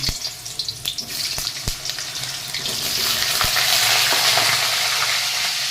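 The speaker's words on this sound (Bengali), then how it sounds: "আলুগুলো এখন একা করে ভেজে নিই" Potatoes fry in white oil with a steady, loud sizzle that builds and thickens midway, broken early by a few sharp clinks and scrapes close by.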